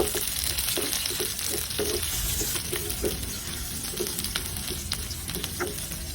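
Onion and ginger sauté in a hot pan with a steady close sizzle, broken by light scraping and stirring clicks as the pieces are moved around.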